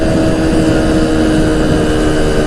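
A Revival 50cc moped engine held at full throttle on an uphill stretch, a loud, steady, buzzing drone with no change in pitch and no talk.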